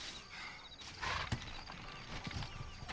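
Horse hooves clip-clop in the Red Dead Redemption video game, a steady walking rhythm of hoofbeats with a few louder thuds over constant game ambience, no talking.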